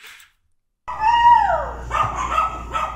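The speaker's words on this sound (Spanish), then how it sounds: "Nuestros perros se alteran." A dog yelps and barks excitedly up close, a rising-falling whine followed by several sharp barks, loud and alone after a brief silence.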